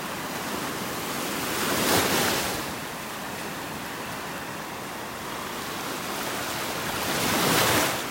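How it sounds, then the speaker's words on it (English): Ocean waves rolling onto the shore at a beach in North Naples, Florida: a continuous roar of surf that swells at two points as waves break, with some wind rumble. "It's kind of hard to see with the waves."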